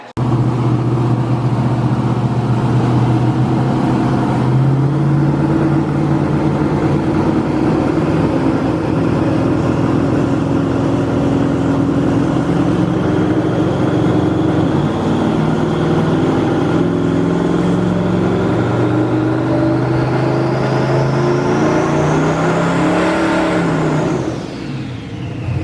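A 2000-horsepower Corvette Z06 on a hub dyno runs steadily through the gears, its loud, close engine holding a continuous droning roar with rising and shifting pitch and a final upward sweep before dropping off.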